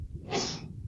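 One close sneeze, a short breathy burst during a lecture on blood pressure regulation, heard alone with no talk over it.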